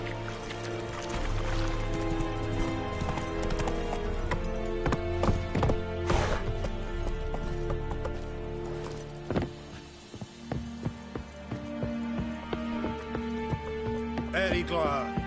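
Geralt's horse Roach in The Witcher 3 game, hooves clip-clopping steadily at a walk over a busy layered game soundtrack of ambience and music, fairly close and continuous throughout.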